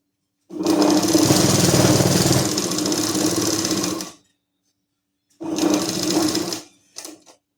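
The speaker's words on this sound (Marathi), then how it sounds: "फक्त हे दोन इथपर्यंत स्ट्रेट टिप द्यायची आहे" A sewing machine runs a straight seam on salwar fabric, a long steady whir of about three and a half seconds, then a shorter burst and a brief final spurt, close and loud with no talk.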